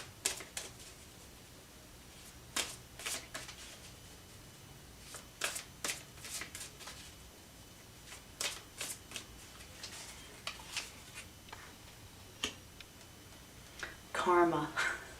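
Tarot cards being shuffled in a quiet room: repeated crisp riffling and snapping bursts at irregular intervals, close and moderately loud, with a brief louder flurry near the end and no talking.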